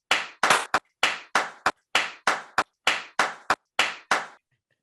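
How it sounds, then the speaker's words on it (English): About a dozen sharp, distinct claps ring out in an uneven rhythm, close and clear with silent gaps between them, as a few hands answer a call for a round of applause on a football talk show. "give yourself a round of applause right now"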